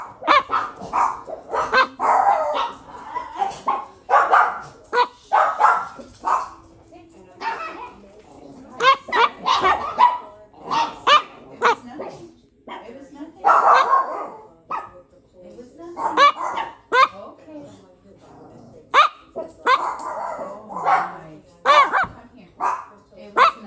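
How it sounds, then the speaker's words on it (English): A guard dog barks repeatedly in loud, bursty volleys close by, with a person talking and calling to it between and over the barks. "Guard dog Marv is activated."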